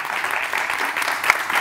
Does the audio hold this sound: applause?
yes